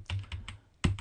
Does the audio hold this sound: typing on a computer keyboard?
yes